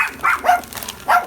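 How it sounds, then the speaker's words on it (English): A dog barks a few quick, sharp times close by, short yaps coming in a brief burst. "Stop barking!"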